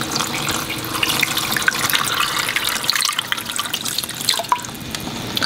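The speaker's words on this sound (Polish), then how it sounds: "Ja do tego wykorzystam wodę z naszej lodówki, z filtra." Filtered water from a fridge dispenser runs into a pot for bone broth in a home kitchen, a close, steady splashing pour with dripping and small gurgles along the way.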